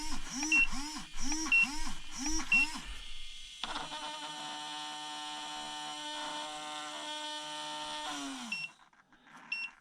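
An RC car radio transmitter, a budget 10/8-channel unit, gives a series of short rapid alarm beeps. A steady tone follows and fades out, and everything sits under faint background noise.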